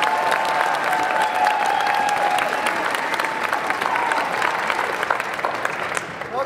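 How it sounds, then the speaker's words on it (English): Dense, sustained applause from an audience at a dance competition, steady and fairly loud throughout with occasional whoops and no clear talk. "Huge round of applause, huge round of applause."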